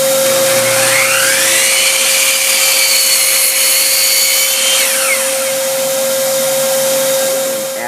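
Sawdust being blown out of a miter saw: a loud, steady, close-up hissing rush of air with a constant whine, holding for several seconds and easing slightly toward the end, with no talking.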